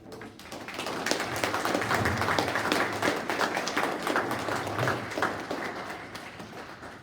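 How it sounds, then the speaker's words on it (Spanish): A lecture audience applauds a speaker at the close of a talk on fighting corruption and paying taxes in Mexico. The clapping is dense and sustained for several seconds, then thins slightly toward the end. "Un fuerte aplauso a nuestro estimado disertante."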